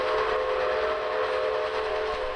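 A sustained steam train whistle blows steadily and loudly the whole time, its several tones held together over a low rumble of the train.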